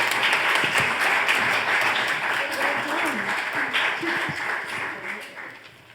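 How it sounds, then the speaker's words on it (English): An audience claps for a reader at a poetry recital. The dense applause starts full and loud, then gradually thins and fades over several seconds. "So round of applause for Lily Sparling."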